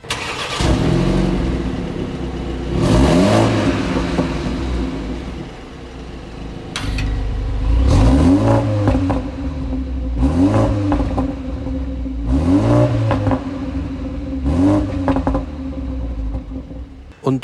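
A 2020 BMW 330i M Sport with a B48 2.0-litre four-cylinder TwinPower turbo engine revving in repeated blips, each rising and falling in pitch over a steady idle, close and loud.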